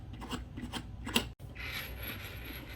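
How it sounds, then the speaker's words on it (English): A brass nut turned by hand onto the threads of a commercial LED kitchen faucet, soft close rasping and rubbing scrapes with a brief metallic click, quiet and without talk. "get your brass nut, and you want to screw it in"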